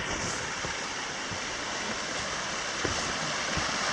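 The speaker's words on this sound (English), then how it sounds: "Coming up on the Rangeline Creek crossing now." Water rushes steadily at the Rangeline Creek trail crossing, a constant broadband wash with a few faint knocks and footstep-like thumps, fairly quiet and with no voices.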